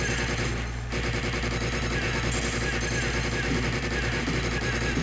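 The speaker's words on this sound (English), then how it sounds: "Okay, now the rocket works." Rapid explosive gunfire and rocket blasts from an arcade light gun game running under MAME on RetroPie, loud and continuous with dense rattling bursts throughout.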